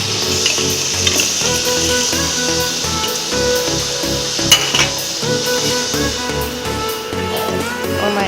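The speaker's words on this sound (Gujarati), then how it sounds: "સરસ આ રીતે આપણે ગોળને હલાવી લેવાનો છે" Jaggery stirred into hot ghee in a pan for sweet laddus: loud, continuous close-up sizzling with a steady scrape and churn of the spoon throughout.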